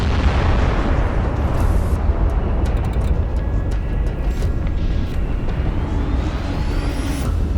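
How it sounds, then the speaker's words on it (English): A drone-struck tank's 125mm gun ammunition detonating, heard as a loud, dense roar of explosive rumble and crackle that fills the whole stretch without letup. "Once it is hit, the shells for the 125mm gun will ignite and cause a spectacular explosion."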